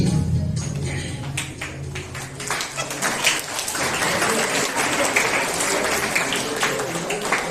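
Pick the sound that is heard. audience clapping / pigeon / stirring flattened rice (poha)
audience clapping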